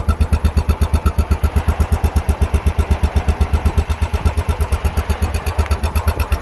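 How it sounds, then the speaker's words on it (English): Steady, even thumping of a 2020 Royal Enfield Bullet Trials 500 single-cylinder engine idling close by, a regular low-pitched pulse with no talk over it. "Let you hear this engine idling away."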